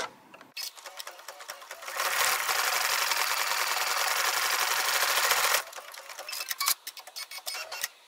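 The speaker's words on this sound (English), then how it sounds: "Next, we're going to stitch the top pom-pom fringe stitches." Sewing machine stitching pom-pom fringe stitches on a pie tote, with green top thread and white bobbin: a fast, steady mechanical whir running for several seconds, framed by short clicks and ticks before and after.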